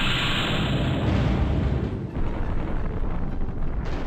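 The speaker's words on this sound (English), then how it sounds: "I'm gonna call in airstrike" An airstrike explodes in the MechCommander strategy game, a loud, sustained rumbling blast that stays dense and roaring for several seconds with no voices over it.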